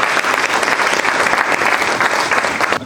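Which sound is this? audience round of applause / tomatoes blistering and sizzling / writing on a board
audience round of applause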